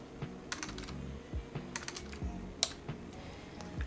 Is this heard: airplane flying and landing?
no